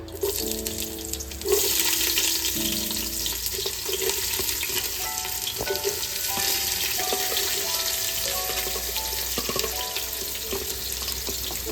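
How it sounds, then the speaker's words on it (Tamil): Small onions drop into hot oil and sizzle steadily in a home kitchen. A continuous, moderately loud frying hiss runs throughout, with faint clinks and stirring. "இப்போ வந்து நல்லா காஞ்சிருச்சு எண்ணெய், ஸோ அதனால் வெங்காயம் ஆட் பண்ணிக்கலாம்."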